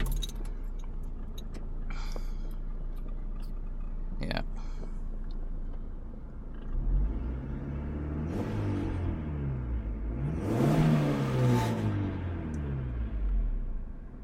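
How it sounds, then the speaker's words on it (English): A 2000 Honda Civic EX-G engine with an exhaust leak starts and idles with a rough rattle, then revs a couple of times, rising and falling close by; a few clicks and taps come beforehand. "It does have an exhaust leak, so that's what's making the rattling and sound"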